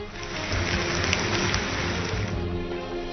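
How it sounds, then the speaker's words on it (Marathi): Loud, continuous rush of the flooded Narangi river in Ratnagiri, Konkan, after heavy monsoon rain, a dense churning roar of fast water close by. "रत्नागिरीच्या नारंगी नदीला पूर आलाय"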